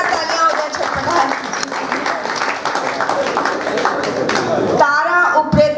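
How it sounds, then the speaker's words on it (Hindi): Theatre audience in a Hindi play performance clapping for the cast, continuous full hall applause under an announcer reading names, with his voice rising clear at the end. "जोरदार तालियां हो जाए छटपटाए"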